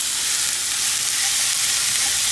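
Ground beef, a 70/30 blend, sizzles in a very hot, dry pan for Tex-Mex taco meat, giving a steady, loud, close frying hiss with no talk.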